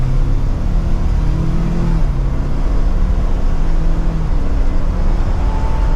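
A 2023 Ford Bronco Everglades accelerating in sport mode in second gear, heard from inside the cabin as a steady, loud, low engine drone and road rumble that holds constant for several seconds.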